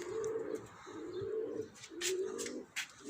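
Pigeons coo in repeated low, rolling calls close by, with faint chirps from other birds in the background.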